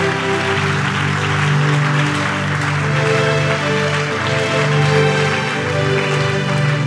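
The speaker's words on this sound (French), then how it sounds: "Acclame très fort." A church congregation at a healing service applauds and cheers loudly, a dense, sustained roar of clapping and voices over steady background music.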